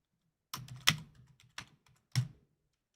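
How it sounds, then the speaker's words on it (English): A few separate keyboard key clicks, sparse and irregular, close up in a quiet room. "I'm typing out a poll."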